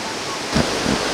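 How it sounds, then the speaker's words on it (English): A river waterfall in New Brunswick, Canada, heard as a constant broadband rushing roar, with brief low bumps that may be a voice or handling over the steady water noise. "Looks like there may be another waterfall there."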